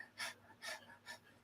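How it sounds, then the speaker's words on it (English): Rapid breath of fire yoga breathing: three forceful, panting exhalations through the nose, evenly spaced about half a second apart, close and breathy in a quiet room. "panting like a dog."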